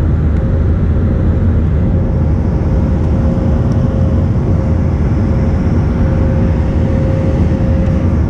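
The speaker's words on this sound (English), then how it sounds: "We were flying right along West Fullerton Parkway after the takeoff from Chicago O'Hare, en route to Baltimore Washington Airport." Cabin of a United airliner climbing out after takeoff from Chicago O'Hare, bound for Baltimore Washington: a loud, steady, broadband roar of engines and airflow with a faint constant hum, unbroken throughout.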